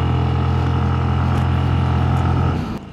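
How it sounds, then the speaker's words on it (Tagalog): Motorcycle engine running steadily on a road in Cagayan de Oro, a loud continuous close drone with a low rumble that fades sharply at the end, with no talk. "Tingnan nyo yung motor. Hindi nahihirapan."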